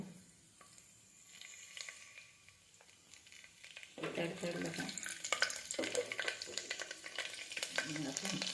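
Mustard seeds, cumin and whole garlic hit hot homemade ghee for moong dal khichdi and sizzle loudly and steadily after a quieter start, with a light crackle and occasional stirring close by.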